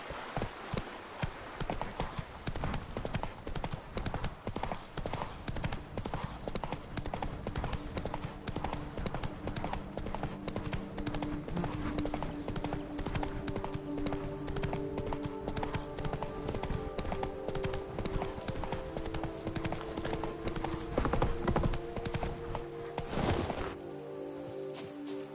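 A horse's hooves trot in a steady, close clip-clop rhythm in The Witcher 3: Blood and Wine, running throughout over a bed of game ambience and soft music.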